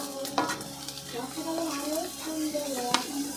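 Paneer cutlet vegetables such as carrot, beans and capsicum are stirred in a frying pan, giving a close, moderate sizzle broken by a few sharp spoon scrapes, with someone talking over it.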